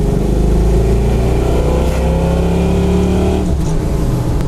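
Loud, close V8 engine of a 1985 GMC 1500 truck with an old Chevy 350, rumbling and revving, the pitch rising and falling before a quick drop near the end.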